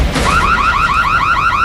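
A car alarm blares right after a tree falls, its warbling siren rising and falling in a steady repeating pattern, loud and close, with no one talking over it.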